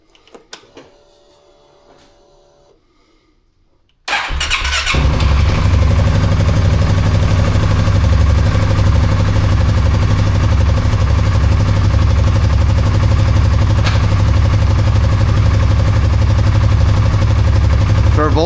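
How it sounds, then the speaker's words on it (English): A Polaris Sportsman 570 ATV engine, on a freshly replaced stator, voltage regulator and harness, cranks after a few seconds of quiet workshop clatter, then catches and runs at a steady, loud idle close by. "We'll start it up, test it,"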